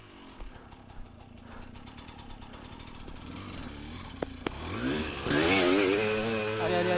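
Husaberg enduro motorcycle engine revving hard while climbing a steep slope, a steady rough drone that rises into a loud, rising high-revving howl in the last seconds, with a couple of sharp clicks just before.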